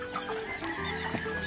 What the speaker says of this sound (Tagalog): dami din nilang mga pangsabong na manok